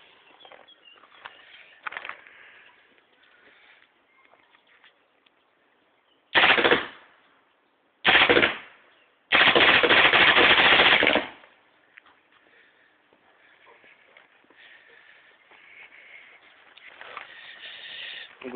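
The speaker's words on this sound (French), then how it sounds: "Maintenant le mode que je préfère, c'est le mode rafale." Spyder RS paintball marker with a Dye Rotor loader and 16-inch Freak barrel fired in burst mode: three loud, dense bursts of rapid shots, the last lasting about two seconds, separated by quiet gaps with faint background noise.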